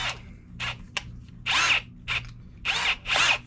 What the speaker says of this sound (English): So now we get out the 3/8 inch drill bit.